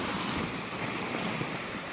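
Big ocean waves surge and wash continuously in a broad, steady roar, with wind buffeting the microphone and no voices.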